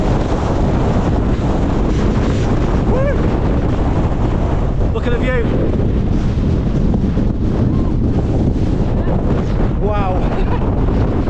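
Strong gusting wind roars across a mountain summit in the Langdales, Lake District, buffeting the microphone continuously and loud throughout, with a person's excited exclamations breaking through.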